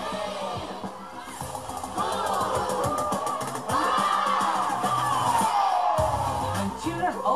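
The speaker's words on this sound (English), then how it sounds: "When children open their boxes, you can hear the laughter, the cheer." Crowd of children cheering, shouting and laughing in a played church overview video about opening gift boxes, a lively continuous mix of excited voices with brief dips, fairly loud throughout.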